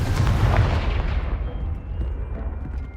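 A Confringo explosion spell goes off in the video game Hogwarts Legacy, a loud, deep boom that rumbles and fades over a few seconds.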